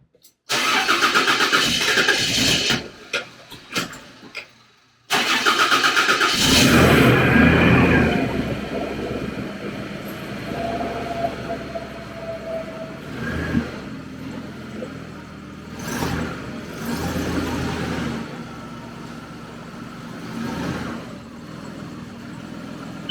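A Toyota Land Cruiser 80 series engine cranks and fires on a cold start, then settles into a loud rough idle that gradually quiets, with brief faint voices nearby.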